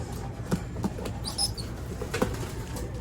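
Pigeons, young birds being handled, beat their wings in a few brisk flapping bursts close by, with faint chirps over a low steady background hum.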